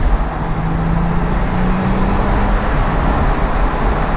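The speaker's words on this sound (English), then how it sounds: "We're going over the bumps now." A 2008 Porsche 911 Turbo rolls over road bumps with its suspension stiffened, giving a steady, loud low road and engine rumble with broadband tire noise heard from inside the cabin throughout.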